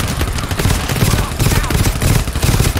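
Sustained rapid automatic gunfire from the co-op shooter game GTFO, a dense, loud continuous fusillade throughout the short stretch, with players' voices faintly mixed under the shots.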